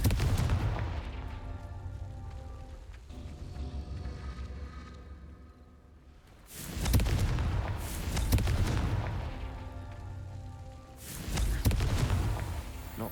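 Confringo blasting spells from Hogwarts Legacy go off as loud, booming explosions, with two big blasts bursting in after a sustained rumbling crackle and a brief lull, each leaving a rolling tail.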